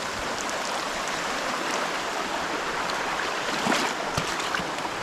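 A river stream rushes steadily nearby, a dense, continuous broadband wash of flowing water with a few faint knocks and splashes, no speech over it.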